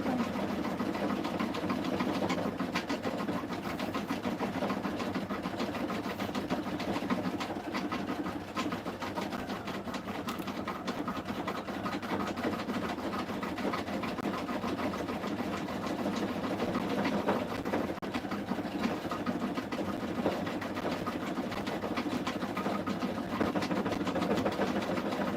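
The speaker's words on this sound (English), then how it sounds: "We are stitching the last stitches as we speak." Sewing machine stitching fabric, a continuous low mechanical whirr with fine rapid needle chatter, steady and moderately close for the whole stretch without speech.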